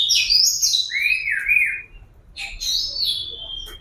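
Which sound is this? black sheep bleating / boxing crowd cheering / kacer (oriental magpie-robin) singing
kacer (oriental magpie-robin) singing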